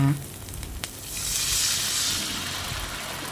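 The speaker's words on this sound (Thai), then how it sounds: "แล้วก็ผัดพริกแกง ให้สุก" Thai red curry paste stir-fries in a pan with a little water while a spicy fried fish dish is made. A brief scrape and tap open into a strong, rising hiss of sizzling that swells and then settles, close by.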